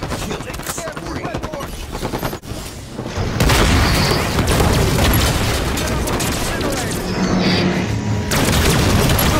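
A grenade blast and gunfire from Halo 5 multiplayer crash out in a dense, loud wash of explosions and rapid shots, with game announcer voice lines mixed in.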